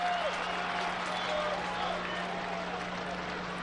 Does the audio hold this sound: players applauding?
yes